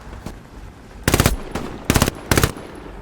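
Loud, close automatic gunfire in the World War II shooter game Hell Let Loose comes in three rapid bursts, with a single faint shot before them.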